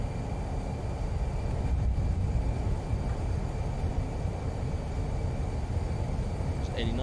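In MSFS2020, a simulated Fenix A320 airliner rolls out after landing with thrust reversers deployed, a low, steady engine and runway rumble running under a man's spoken callouts.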